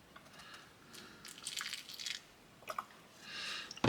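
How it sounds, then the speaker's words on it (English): Water is added to a small scale model diorama, giving soft wet drips, squishes and little splashes in irregular bursts, close and fairly quiet. "I'm going to add some water."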